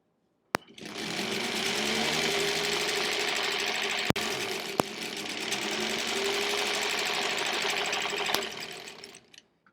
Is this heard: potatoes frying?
no